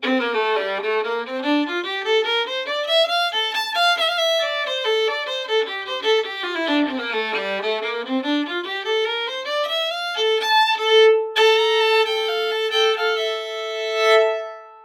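A solo fiddle plays the B part of a tune, flowing with sliding runs up and down and a few bright sustained high notes near the end.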